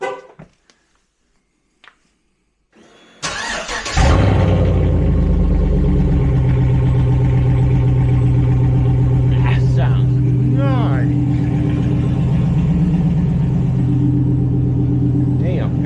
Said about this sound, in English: So let's see what it sounds like without the muffler here.